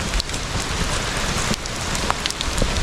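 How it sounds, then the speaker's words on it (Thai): Steady, dense rain pours down in a cold, windy forest during a storm, a close, continuous hiss with no voices. "ฝนก็ตกปล่อยๆนะฮะ"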